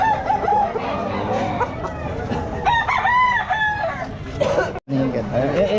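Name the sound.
rooster crowing at a pet market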